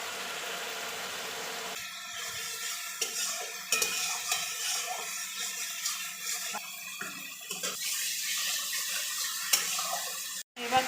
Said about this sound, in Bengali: দুই দিকে মশলা কষা চলছে